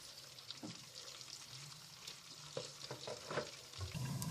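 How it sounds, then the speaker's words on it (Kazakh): Meat for kuyrdak sizzles softly in a pan over medium-low heat while it is stirred, with a few scraping clicks and faint crackling over a quiet background. "қуырамыз, осындай ақырын отта,"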